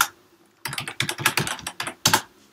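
Typing on a computer keyboard at a command prompt: a quiet pause, then a quick run of crisp, close key clicks in uneven bursts, with one last cluster before it tails off.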